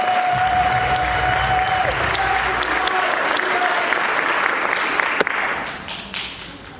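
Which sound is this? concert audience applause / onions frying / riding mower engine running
concert audience applause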